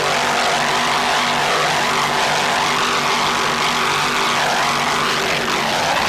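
The offshore racing powerboat Dragon Lady, driven by twin 640 hp engines, roars by in a loud, sustained, broadband engine drone with a shifting pitch as it passes, close and with no talk.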